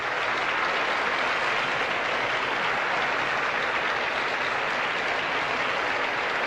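Audience applause and cheering at the 1988 Miss USA pageant, a broad, even roar of clapping from a large hall crowd, continuous and moderately loud the whole time.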